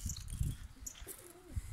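Pet pigeons kept in a loft cooing softly at close range, low throaty coos repeating in short bursts with faint chirps above.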